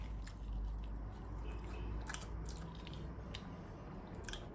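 Soft, close chewing and biting of food at a home Christmas party, steady and wet-sounding, with faint crunches over a constant low background hum and no talking.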